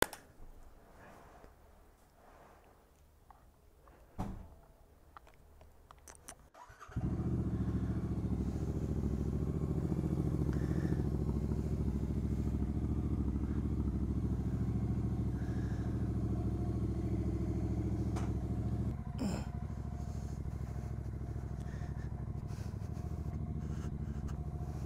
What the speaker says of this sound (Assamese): So guys, cold start অলপ দি লৈছো তেবিলাক